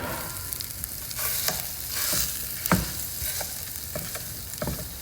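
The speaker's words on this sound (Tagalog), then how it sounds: "I-smash natin guys dito sa kawali." Seasonings are mashed and stirred in a sizzling frying pan, with a steady hot fry beneath repeated sharp scraping and tapping strokes of a utensil against the pan, close and loud.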